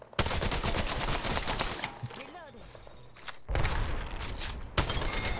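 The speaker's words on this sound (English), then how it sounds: "Oh, they're shooting at me!" Rapid gunfire in a first-person shooter video game, loud bursts of automatic fire at the start and again later, with a quieter stretch between and players talking over it.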